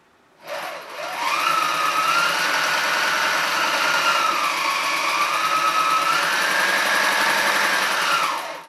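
A mini walking foot sewing machine runs continuously through thin, cheap unfinished cotton muslin, its steady motor whine close and loud for about eight seconds, starting and stopping cleanly, with no talk.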